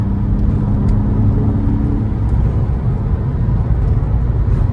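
A Porsche 911 engine roars steadily close by, a continuous rumbling drone of hard acceleration with wind and road noise layered over it.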